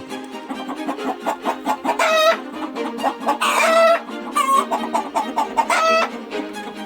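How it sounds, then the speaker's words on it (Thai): Several jungle fowl cluck and squawk close by in a busy, overlapping chorus, with a few sharper calls rising above the steady clucking. "เจอแล้วเหยื่อตัวแรก ไก่ป่านี่เอง"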